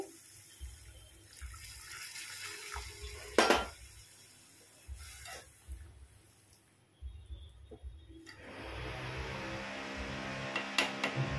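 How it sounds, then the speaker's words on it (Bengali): Hot water poured into a pan of oil and spices while cooking a vegetarian chhena tadka, heard as running, splashing water with clinks of utensils and a steady stream building toward the end; no one speaks. "আমি গরম জল দিয়ে দিচ্ছি"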